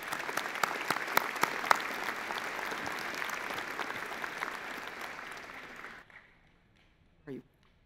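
A convocation audience at a university science faculty ceremony gives a round of applause, dense clapping with sharp individual claps that ends abruptly near six seconds, followed by a brief voice.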